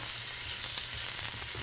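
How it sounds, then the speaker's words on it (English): Loud, steady sizzling of shrimp-boil food frying in a hot pan, a continuous crackling hiss with no talking. "how does the sizzle sound?"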